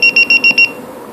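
A LiPo battery monitor sounds its low-voltage warning as five loud, sharp electronic beeps in quick even succession, then stops.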